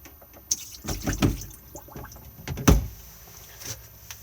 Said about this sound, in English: We then have the pull down basin. Just slowly tip away.